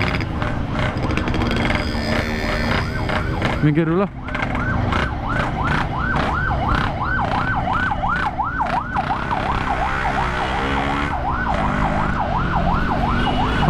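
A loud wailing ambulance siren sweeps up and down in a steady rapid cycle, close by, with traffic rumble and a brief spoken remark near the start.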